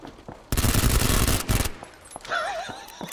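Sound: gunfire in the video game PUBG: Battlegrounds

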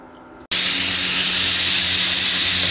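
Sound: pressure cooker whistle while cooking jackfruit

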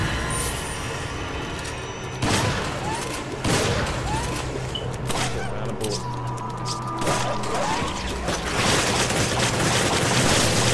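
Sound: powerful gunshots in video game Resident Evil 5

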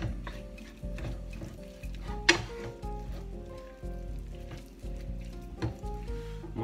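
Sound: onions frying in a pan

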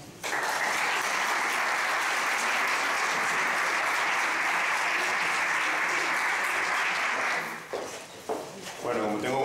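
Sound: audience applause for a speaker

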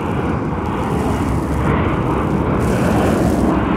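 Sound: low-flying airplane passing overhead to land

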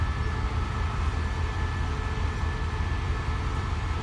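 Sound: train departing station

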